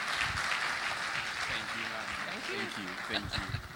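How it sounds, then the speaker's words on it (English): Audience applause fills a conference opening ceremony hall in Lagos: steady, dense clapping from a large crowd, moderately distant, with a voice speaking over it partway through. "Can we please keep the applause coming for our 2017 SPE International President?"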